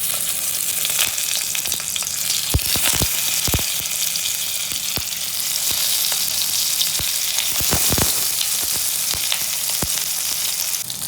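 Steamed stuffed eggplants fry steadily in a little hot oil, a dense continuous sizzle with scattered sharp pops and crackles throughout, fairly loud and close with no voices.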